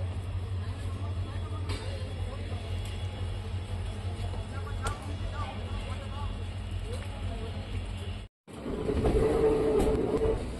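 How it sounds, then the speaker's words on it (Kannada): A passenger train pulls out of Sakleshpur railway station on a monsoon journey from Mangalore, a steady low rumble and rolling noise heard from on board, broken by a brief gap before louder, rougher running resumes. "ಸಕಲೇಶ್ಪುರ ರೈಲ್ವೆ ಸ್ಟೇಷನಿಂದ ನಮ್ಮ ಟ್ರೈನ್ ಹೊರಟಿದೆ."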